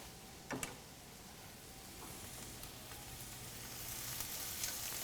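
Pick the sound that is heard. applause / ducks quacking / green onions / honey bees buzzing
green onions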